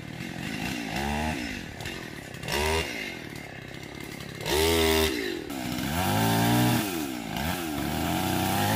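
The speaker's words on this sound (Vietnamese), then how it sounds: "giờ là anh sẽ mở một cái đường cưa để lấy cái máy cưa kia ra" A chainsaw roars close by, its engine rising and falling as it revs repeatedly while cutting into a large rain tree trunk, loud and continuous with no talking.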